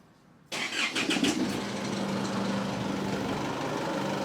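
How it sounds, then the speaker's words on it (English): An Isuzu MU-X diesel engine cranks briefly with a few rapid turning pulses after a fuel filter replacement, then catches and settles into a steady, even idle hum. "We'll crank it over and see what happens"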